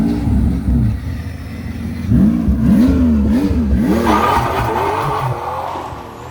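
A V12 twin-turbo Toyota Supra of about 1000 hp does a rolling burnout on a city street, its engine roaring loud and close with rising, warbling revs and tire noise.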